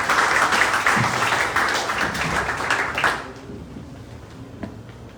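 Audience applause at a university memorandum of agreement ceremony, a dense wash of clapping from many hands that fades out after about three seconds, leaving a quiet room.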